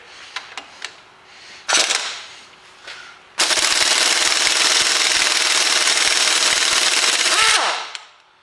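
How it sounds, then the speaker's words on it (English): Air impact gun on a Torx bolt of a Ford Fiesta, a few short clicks and bursts before a loud, sustained rattling hammer of about four seconds that cuts off sharply. "hopefully we can just get this off with the air gun"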